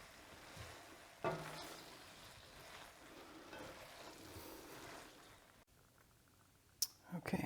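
Shrimp scampi linguine with butter and parsley is stirred in a pan over low heat, giving a soft scraping, sizzling texture with a sharp utensil clack early on and clattering near the end.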